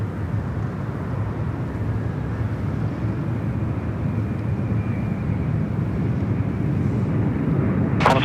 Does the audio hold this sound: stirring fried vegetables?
no